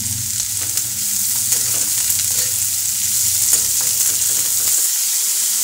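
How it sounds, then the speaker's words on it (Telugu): Chopped onions and cumin sizzle and fry steadily in a hot pan, a continuous close crackle that holds evenly throughout, with no talking. "వీటిని మంచిగా ఫ్రై చేసుకోవాలి ఉల్లిపాయల్ని."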